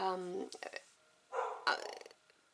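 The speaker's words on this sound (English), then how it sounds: "my dogs, they just bark over nothing continuously at the moment" Several dogs bark in short, muffled bursts from a distance, heard under and between a woman's speech indoors.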